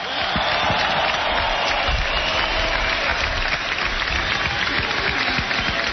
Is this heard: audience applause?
yes